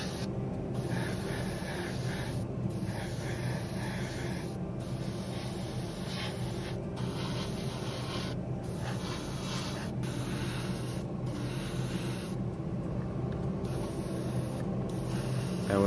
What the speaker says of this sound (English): also use the smaller airbrush for approaching the inner side of the body, the connection points